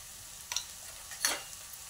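Onion sautés in a pan with ground spices, a faint low sizzle with two brief stirring scrapes close by, and no talking.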